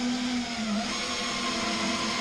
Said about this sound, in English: I'm going to get the drill in that little hole